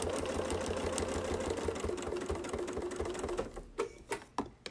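Sewing machine quilting along a Westalee Baptist Fan template, a fast continuous mechanical whir with rhythmic needle ticks that slows and breaks into separate thumps at the end.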